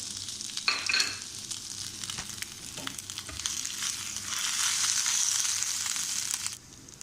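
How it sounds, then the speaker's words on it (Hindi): Small whole red chilies and whole cumin seeds fry in hot oil, giving a bright crackling sizzle with a few stirring clatters that swells louder midway before cutting off. "लाल मिर्च, छोटी वाली जो लाल मिर्च होती है वो, और जीरा साबुत हम इसमें फ्राई करेंगे"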